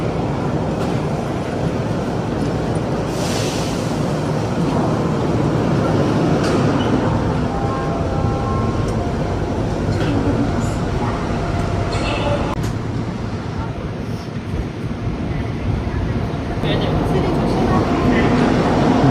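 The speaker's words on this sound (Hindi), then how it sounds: "तो ये हमारी ट्रेन आ गई है और अब हम इसमें बैठेंगे" A metro train pulls into a Seoul subway station, a loud steady rumble and wheel roar filling the platform, with faint tonal squeals and chimes above it and crowd murmur in the background.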